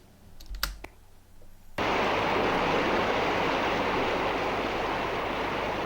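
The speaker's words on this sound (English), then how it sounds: "I'll never ever forget the first time that I came to this little baby waterfall" A small rainforest waterfall roars in as a sudden, loud, continuous broadband rush after a few quiet seconds with light clicks. It then stays steady and close until the end.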